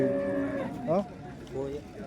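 Cows at a livestock market low in drawn-out moos, one long call followed by shorter bellows, fairly close, with faint market noise behind.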